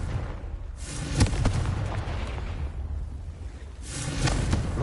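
Spell blasts and explosions in a wizarding video game, a low rumbling boom near 1 s and another swell near 4 s over a steady, dense game-audio bed.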